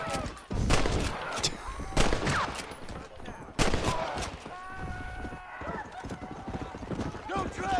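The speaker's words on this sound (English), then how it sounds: "Who's shooting already?" Gunfire rings out in the Western video game Red Dead Redemption near a freight station, several sharp shots mixed with horse hoofbeats and whinnies over a busy game soundscape.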